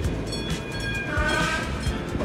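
A train runs through a coal mining district in Moravian-Silesian Region, a steady close rumble of wheels on rails with clacking and faint squealing tones, no voices.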